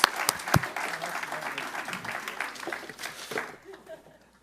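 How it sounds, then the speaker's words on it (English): An audience at an insurance industry event applauds contestants of a game-show style segment, a burst of clapping with a few sharp close claps at the start that thins out and fades away. "We can have a round of applause for our contestants"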